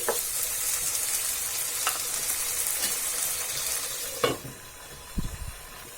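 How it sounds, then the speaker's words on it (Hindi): Tomatoes fry with spices in a covered pan for a drumstick and potato curry, giving a steady close sizzle with a few sharp utensil clacks and a lid knock near the end. "अब इसमें हम टमाटर ऐड करेंगे इसे भी डाल के हम भून लेंगे।"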